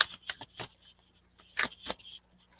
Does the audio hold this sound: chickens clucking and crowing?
no